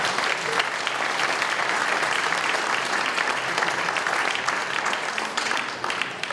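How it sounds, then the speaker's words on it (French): Sustained applause from a sizeable audience at a mayor's New Year address in Les Essarts-le-Roi, France, dense and steady clapping throughout, fading slightly toward the end. "Je crois qu'on peut applaudir les présidents d'associations et les élus."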